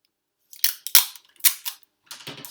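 Packing tape is pulled and torn from the roll to seal a Priority Mail shipping box, heard as several short, sharp ripping bursts close by in an otherwise quiet room, with no voices.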